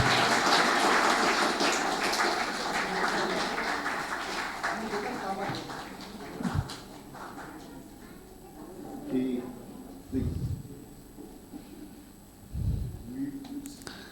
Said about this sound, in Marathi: जरा टाळ्या जोरात वाजू देत